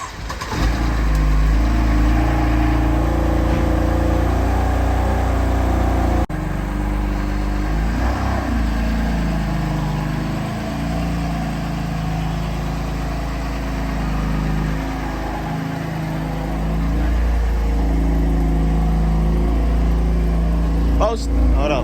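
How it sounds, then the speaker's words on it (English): BMW M4 engine on its first test drive after a wreck repair: a deep, loud, continuous engine drone heard from inside the car, with slight swells in revs and people talking over it. "we're gonna take her for our official first test drive"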